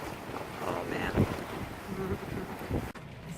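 Strong gale winds buffeting a harbor, a steady loud rushing roar with gusty surges and microphone wind noise, water and boat sounds blended underneath.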